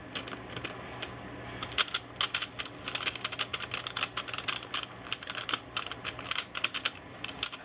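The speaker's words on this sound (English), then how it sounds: "Because these have this crinkly window part." Envelopes with crinkly plastic windows being handled and crinkled up close, a steady stream of quick, crisp crackles and rustles with no talking.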